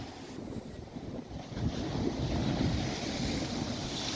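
Steady roar of wind buffeting the microphone over crashing sea waves at Porbandar beach, Gujarat, during a strong current from a sea depression; a continuous rumbling surf with no voices.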